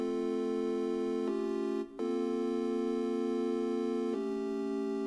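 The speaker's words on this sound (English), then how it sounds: "The pad for the intro, it sounds like this," A sustained synth pad from a Vital preset holds rich, steady chords, shifting chord twice with a brief dip in the middle, smooth and continuous with no voices.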